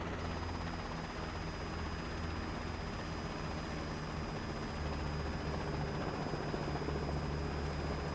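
Helicopter engine and rotor droning steadily up close as the throttle is rolled off in flight, with a constant high whine over the low rumble.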